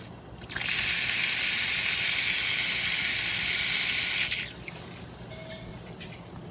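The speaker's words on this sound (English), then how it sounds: "me making sure this faucet works and also flushing it out because I haven't used it in a month" A household faucet fed by a well pump, left unused for a month, runs hard and loud in a steady hiss for several seconds, then eases to a softer trickle with a few faint clinks near the end.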